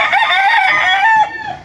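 A rooster at a small backyard poultry farm crows once, loud and close, in one long drawn-out call that tails off at the end.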